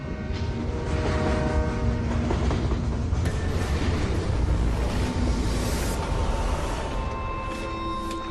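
A train rumbles steadily past inside a train tunnel, a dense continuous roar with faint rhythmic clatter and no pauses.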